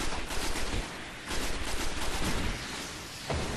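Gunfire from a weapon in the video game Destiny on PS3, fired in loud bursts of rapid shots with short pauses between them, with no voice over it.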